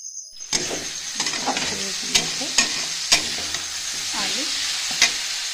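Potatoes and onions frying in oil in a pan, a steady close sizzle with several sharp stirring scrapes and clinks spaced through it, no voices.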